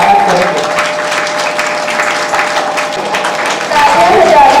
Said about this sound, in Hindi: सामने आ जाएंगे और तालियों से इनका स्वागत करेंगे।